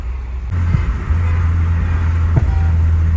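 Honda Prelude engine idling or driving after a crankshaft sensor replacement, a steady low rumble that steps up in level after half a second, with a brief thump partway through and no talking.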